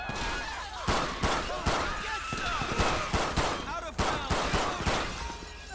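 Rapid bursts of gunfire in the video game GTA 5 during a police callout, with repeated sharp shots and volleys crackling across a busy, noisy scene; a voice speaks intermittently over the shooting.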